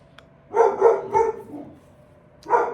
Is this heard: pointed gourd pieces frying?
no